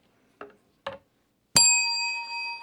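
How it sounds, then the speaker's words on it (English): Two soft knocks come first, then a single bright strike on a bell rings out clearly and is left to sustain and fade, with no speech alongside. "I'm not supposed to ring the bell on this one"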